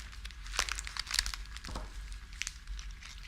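Floral wrapping paper and plastic film crinkle and rustle in a florist's hands during flower arranging, in quick bursts of crisp crackling with brief quieter gaps between handlings, close and moderately loud with no talk.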